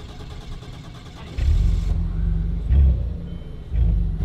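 A Peugeot 607 Paladine concept car that has sat unused for sixteen years cranks and catches, its engine rumbling up loudly in uneven bursts after a stretch of lower churning.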